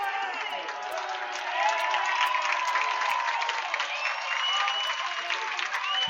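The crowd at an Edison high school football game reacts with a sustained, distant roar of many voices and scattered clapping, steady across the whole stretch.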